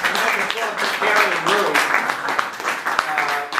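An audience applauds a book discussion speaker, uneven clapping that rises and falls, heard under and between voices talking over it.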